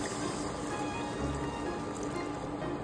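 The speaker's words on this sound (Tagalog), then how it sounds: "Lagyan na natin ng tubig, guys." Water pours steadily into a cooking pan for sautéed pechay (bok choy), making a continuous close splashing rush with no talking.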